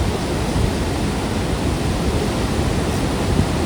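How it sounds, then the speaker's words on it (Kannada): Water pours through fourteen open gates of the Tungabhadra dam in a dense, unbroken roar of rushing flow, steady and loud with no pauses. "ಇವಾಗ ಪ್ರೆಸೆಂಟ್ ಹದಿನಾಲ್ಕು ಗೇಟ್ ಓಪನ್ ಅದಾವು ನೀರು ಎಷ್ಟು ಫ್ಲೋ ಐತೆ ನೋಡ್ರಿ"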